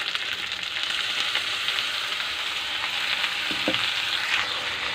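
Onion fries together with cauliflower in a hot pan for a spicy gobhi sabzi, a continuous close sizzle with faint stirring scrapes, steady and without talking.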